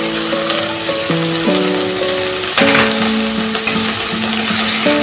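Tomato paste hitting a hot pan over a medium flame while cooking katla fish with almonds, giving a steady, loud broadband sizzle with stirring clatter and tonal scraping notes running throughout.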